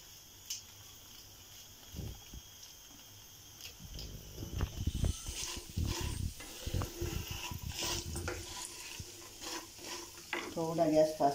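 Chickpeas with chaat masala frying in a pan, a steady sizzle with repeated scraping stirs of a spoon against the metal, getting busier and louder toward the end.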